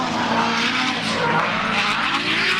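A drift car on its first qualifying lap at the Manfeild D1NZ Pro-Championship round, engine roaring loud and continuous with tyres squealing and skidding throughout, no talk.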